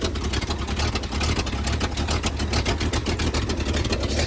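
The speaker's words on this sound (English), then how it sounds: "or I guess an exhaust header gasket is leaking real bad. It's got a little pop to it" A car with a newly installed Hogg cam and a badly leaking exhaust header gasket idles steadily, a rough rumbling engine with a rapid ticking pop pulsing through it, close and continuous.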